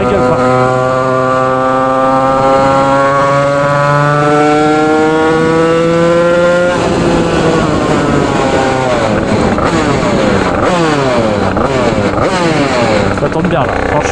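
A Yamaha DT 86 two-stroke motorcycle engine runs loud and steady, its buzzing tone climbing slightly before breaking into a series of quick revs and rises, close by, with no one speaking over it.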